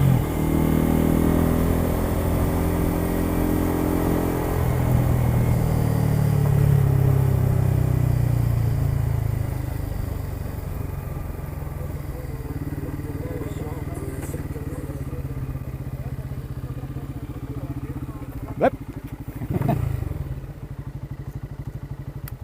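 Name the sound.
Bajaj Pulsar N250 motorcycle riding on a track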